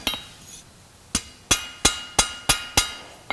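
A blacksmith's crossbeam hammer strikes metal in sharp ringing blows, one early then six evenly spaced hits about a third of a second apart, close and loud with no talking.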